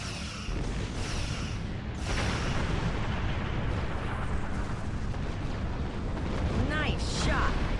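Starship torpedoes and weapon fire from Star Trek Online, heard as a steady, dense stream of booming blasts and bursts that fills the whole stretch, with brief higher zaps near the end.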